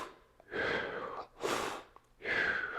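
Three slow, controlled inhalations through the nose, close and soft, each lasting about half a second with short pauses between, part of shallow breathing while holding a dumbbell in a suitcase carry.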